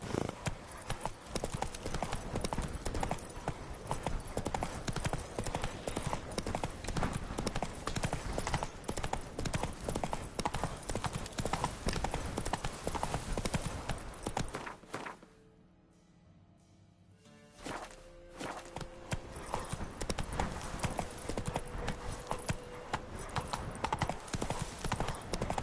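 Roach, the horse in The Witcher 3, galloping with rapid rhythmic hoof clip-clops over a game soundscape, broken by a short near-silent gap before the hoofbeats resume.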